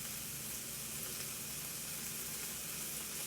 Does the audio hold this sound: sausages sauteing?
yes